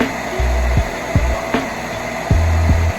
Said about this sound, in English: I had the dryer on just so that it could dry faster.